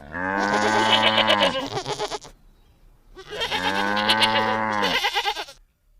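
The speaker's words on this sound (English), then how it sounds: "G for goat." A goat gives two long, loud bleats close by, each wavering call trailing off, with a brief quiet gap between them.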